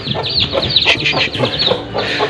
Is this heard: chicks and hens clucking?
yes